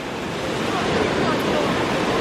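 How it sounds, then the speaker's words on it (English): Natural ocean waves break and wash continuously at a Tenerife beach, a loud broadband rush with wind buffeting the microphone and no clear separate surges. "There's more people because of the natural waves."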